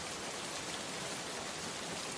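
Steady rain falls with a dense, even hiss of drops, constant throughout and without voices.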